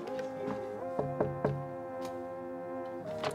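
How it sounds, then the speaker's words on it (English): Three quick knocks land about a second into sustained, tonal music, then the music plays on. "do you think I was actually knocking?"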